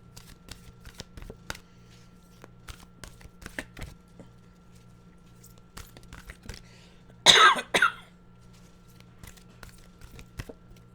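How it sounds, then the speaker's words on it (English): A single short dry cough from someone with a parched throat bursts out in a quiet room, sounding loud and close against a faint background of soft taps and rustling. "that just was a cough because my throat's getting dry"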